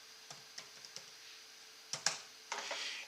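Fingers type on a computer keyboard, entering a command into a code prompt. Quiet scattered key clicks come at an uneven pace, then a small burst of quicker taps, close and soft against a faint room hiss.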